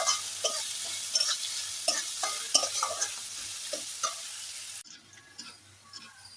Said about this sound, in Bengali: এই যে পেঁয়াজ রসুনটা আমার ভালো করে ভাজা হয়ে গেছে